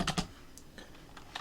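Keystrokes on a computer keyboard in an English input mode, a few quick clustered taps followed by sparser single presses, close and clear with no talking.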